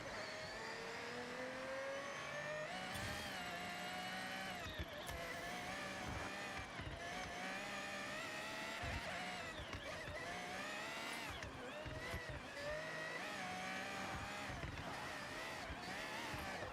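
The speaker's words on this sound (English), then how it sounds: "these supercars do have a tendency to be able to turn on a dime" Supercar engine in the Forza Horizon racing game revving and shifting through gears, with rising and falling engine pitch, steady and faint, with game sounds around it.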